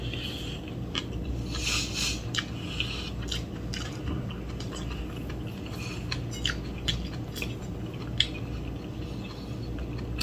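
Crunchy sautéed bean sprouts being chewed at a lunch meal, steady soft crunching and biting close to the mouth, repeating through the whole stretch with no talking.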